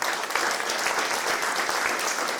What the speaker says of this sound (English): Carolyn, can we give Carolyn a round of applause?